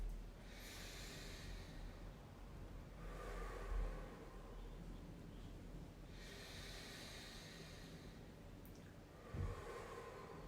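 Slow, deliberate breaths in and out through the nose during a breathing exercise, about four long airy hissing cycles with soft sniff-like peaks, close and quiet.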